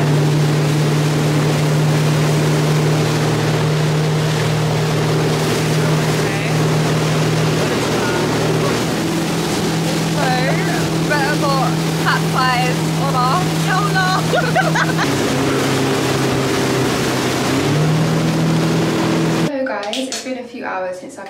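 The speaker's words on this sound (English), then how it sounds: "Guys, we've been on the side of a random boat." Steady drone of a boat engine running on the sea in Greece, loud and continuous throughout with a low hum, while people talk over it; the motor fades near the end.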